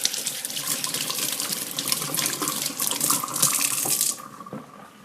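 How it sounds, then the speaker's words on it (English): Running tap water splashes steadily into a kitchen sink as a spoon is rinsed under it while making fish tacos, continuous and fairly close, then dropping quieter near the end. "Rinse the spoon off."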